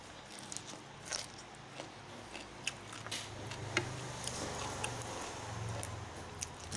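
Someone eats spicy green papaya salad alone, with soft, close chewing and crunchy bites in an uneven rhythm over a low background hum.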